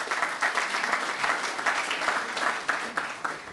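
An audience at a business ethics forum gives a big round of applause, sustained clapping with distinct individual claps surfacing in an uneven rhythm, fairly close and alone.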